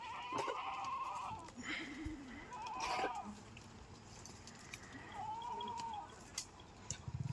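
Several goats, kept for milk, bleat at a distance, a few drawn-out calls spread over a quiet outdoor background.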